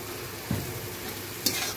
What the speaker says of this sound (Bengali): কাঁচা তেল দিয়ে একটু নেড়ে চেড়ে